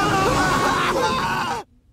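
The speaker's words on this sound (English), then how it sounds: "more dying screams in the promo!" Anguished screaming and groaning voices from a cartoon promo overlap in a loud, sustained burst that cuts off abruptly.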